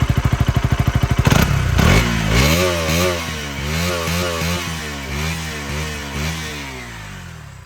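A 2025 KTM Duke 200 BS6 motorcycle engine idles with a rapid thumping beat, then revs up and down several times, loud and close.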